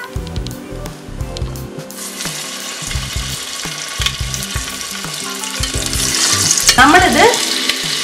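Chicken popcorn deep frying in coconut oil over a medium flame, a loud steady bubbling sizzle that swells in the final seconds, close up, with a brief spoken word.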